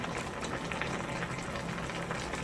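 Chicken stew boils in a pot with a soft, constant bubbling and light popping. The simmer is moderately close and steady throughout, with no voices.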